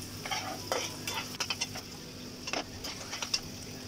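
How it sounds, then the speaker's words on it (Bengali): Onions frying in ghee in a frying pan alongside Chinese vegetables, a steady close sizzle broken by quick metallic scrapes and clinks of stirring, no voices. "পেঁয়াজ দিলাম তাওয়া চিকেনের জন্য ফ্রাই প্যানে।"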